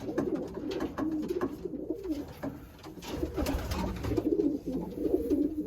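Racing pigeons coo steadily in a loft, a continuous layered murmur of several nearby birds with soft wingbeats and shuffling underneath.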